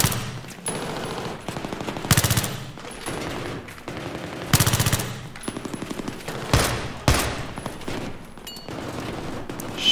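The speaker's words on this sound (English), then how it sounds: "They're shooting there." Battlefield 3 gunfire: loud, close bursts of rapid automatic fire alternating with sharp single shots and short pauses, repeating in irregular volleys with no voices.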